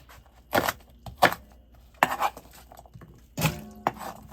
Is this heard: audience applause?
no